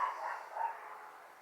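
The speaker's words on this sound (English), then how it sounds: "every man and his barking dog is either out walking said barking dog or flying a small plane" A dog barks outdoors somewhere in the distance, two faint, thin yips over quiet ambient background.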